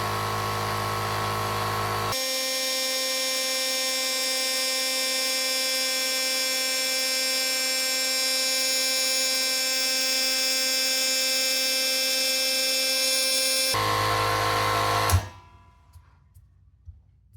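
Quiet 68 dB air compressor running up its tank, a steady tonal hum with harmonic whine for over ten seconds that cuts off abruptly, followed by near silence with a few small rattles.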